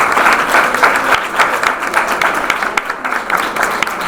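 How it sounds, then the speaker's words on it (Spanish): Loud, close applause from an audience closing a labor rights panel, dense rapid clapping with individual claps standing out, holding steady throughout. "Un aplauso para el panel."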